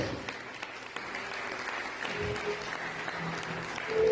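A church congregation applauds during a French-language sermon, a steady broadband wash of clapping that holds throughout and swells slightly louder at the end.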